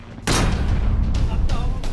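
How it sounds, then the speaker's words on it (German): Deck gun of the surfaced U-boat U-515 firing back at aircraft, a rapid series of loud, sharp close reports with booming low tails, one after another over a deep rumble. "Die Mannschaft von U-515 erwidert das Feuer mit ihrem Deckgeschütz."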